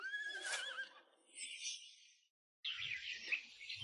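A horse neighs in a rural village setting, a bright shrill whinny near the start followed by fainter high calls and chirps, with another burst of high whinnying after a short silence.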